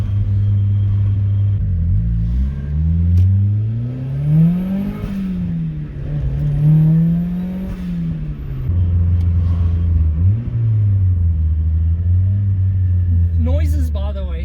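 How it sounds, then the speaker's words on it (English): A 200 whp turbocharged Mazda Miata accelerates with a deep, rumbling exhaust note rising and falling through gear changes, plus brief turbo hiss and blow-off valve bursts, heard from the cabin with a voice talking over it. "The exhaust is insane."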